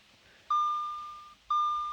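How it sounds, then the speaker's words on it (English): Two steady electronic warning beeps from an Audi with a 3.0T engine, sounding after the push-button ignition is pressed without the brake pedal. Each tone starts abruptly and fades slowly, with a clear gap between them, alone in a quiet cabin. "I'll get rid of the beep."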